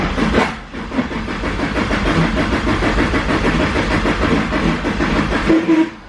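An SR20 engine in a 4x4 pickup truck cranks and catches, then runs with a rough, pulsing chug, close and loud, before cutting back near the end.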